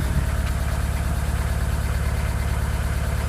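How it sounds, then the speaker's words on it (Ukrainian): A Fiat Ducato 1.9 diesel engine idles smoothly with freshly adjusted injectors and fuel pump, a loud, close, even low chugging rhythm that holds steady throughout with no voices. "Це форсунки відстроєні, топ і паливна відстроєна, що працює дуже рівненько він."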